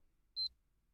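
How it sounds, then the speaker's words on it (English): A single short, high electronic beep from a PS4 console, brief and clean against near silence. "I see it beeping. That's the PS4."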